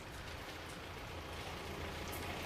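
Driving rain in sub-zero weather at an earthquake disaster zone in Turkey, a steady, dense hiss of rain on surfaces that stays constant throughout with no talk.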